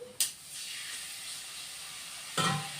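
Ridge gourd and mung dal sautéing with ginger paste in a pan, a sharp sizzling burst as water hits the hot oil, then a steady hiss and frying crackle, with a second loud sizzle near the end.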